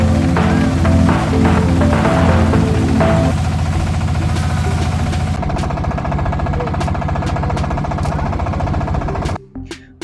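A boat engine drones and knocks steadily during a ride on Dumboor Lake, loud and continuous with shifting water and wind noise, cutting off abruptly at the end.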